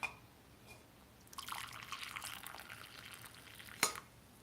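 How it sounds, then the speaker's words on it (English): Tea pours into a mug with a soft, steady trickle lasting a few seconds, followed by a light clink, faint and close in a quiet kitchen. "So we're gonna pour ourselves a little tea"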